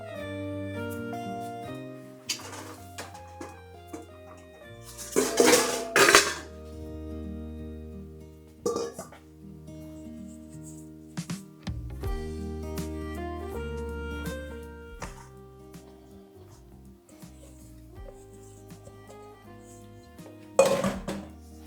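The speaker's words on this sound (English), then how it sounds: "I'll just grab another bowl." Ceramic bowls and dishes clink and clatter as a bowl is grabbed from among them in a kitchen while biscotti are made, with ringing chimes in scattered bursts and louder knocks near the start and end. The sound is close, with no talk.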